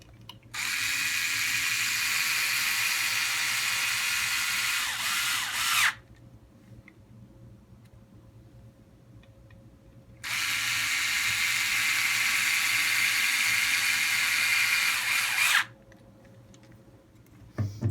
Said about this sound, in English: now we can go ahead and replace the bumper mount screws up in the front